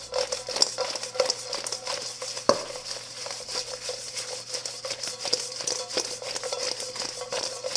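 Fries being tossed and mixed with melting garlic butter, salt and pepper, a steady close rustling, scraping stir with a few sharper clinks, no voices.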